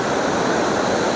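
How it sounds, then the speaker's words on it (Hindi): The flood-swollen Siran river in Siran Valley, Mansehra district, swollen by ongoing rains, roars beneath a bridge in a loud, dense, unbroken rush of churning water. "पानी की जो गूंज है वो, मैं ब्रिज पे खड़ा हूँ, यहाँ तक सुनाई दे रही है।"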